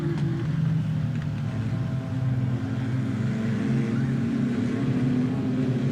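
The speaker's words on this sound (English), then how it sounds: "Green flag, we're racing with the Great Lakes Legends" Legends race cars in an eight-lap heat race at Grand Bend Speedway, a loud continuous pack of engines droning and revving together with fluctuating pitch, no talk.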